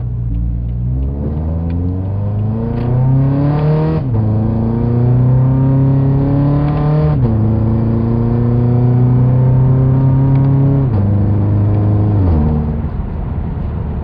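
Toyota GT86 accelerating hard through gears in Tiptronic mode, engine note climbing repeatedly then dropping at each upshift, with sharp pops on the shifts around 4000 rpm; loud, close and continuous with no talking.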